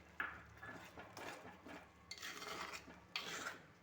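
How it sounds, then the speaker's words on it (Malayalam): Stirring pumpkin and mango pachadi after ground coconut and water are added, a series of soft scraping, rasping strokes with brief pauses, close and fairly quiet. "നല്ലപോലെ ഒന്ന് ഇളക്കി യോജിപ്പിച്ച്"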